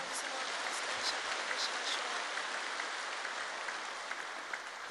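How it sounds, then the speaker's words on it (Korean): A church congregation claps in welcome during worship, a sustained broad wash of many hands applauding, soft and steady for several seconds with no talking over it. "박수로 환영하십시오"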